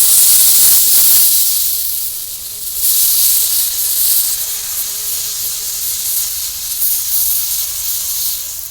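Rice flour batter for thin pitha hits a hot pan and sets off a loud, bright hiss that eases slightly after a second, then keeps up a steady sizzle and steam spray throughout.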